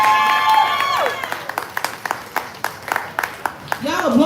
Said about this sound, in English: Y'all applaud the feature, applaud the feature.